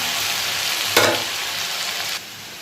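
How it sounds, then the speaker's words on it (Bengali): Potatoes frying in a pan give a steady, close sizzling hiss, with a brief louder crackling burst partway through before the sizzle settles quieter. "আলুটা প্রায় ভাজা হয়ে এসছে, নরম হয়ে গেছে"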